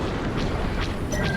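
An explosion from a Star Wars Squadrons space-combat battle: a dense, loud, rumbling blast that fills the short moment with sustained low-end roar and crackling bursts.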